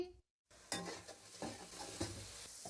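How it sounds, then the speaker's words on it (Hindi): Onions frying in a pan for chicken white karahi, with a soft steady sizzle and several scraping stirs of a spoon after a brief silence. "प्याज को हमने हल्का सा फ्राई कर लिया।"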